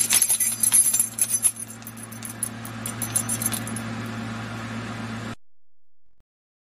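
Keys jangle in a busy metallic shimmer, loud and close at first, then thinning into a softer steady rattle before cutting off abruptly, with no voices.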